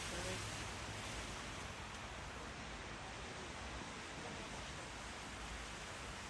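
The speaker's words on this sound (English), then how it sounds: "Blustery conditions, wind playing a huge part." Blustery wind sweeps steadily across an outdoor tennis court, a broad, even rushing roar that holds at a constant level without pause or gusting peaks.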